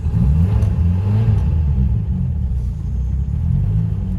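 The engine of a 1964 Honda S600 Roadster rumbles loud and close on a wet day, a steady low drone with a slight rising edge and no voices.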